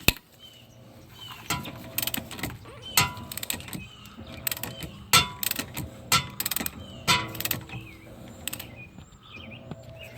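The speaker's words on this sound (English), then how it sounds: "I've just got an extended handle ratchet here." Extended-handle ratchet turning on a rear shock bolt of a 2013-2016 Dodge Dart, a series of close, sharp clicking ratchet strokes in irregular bursts with faint mechanical rattles between them.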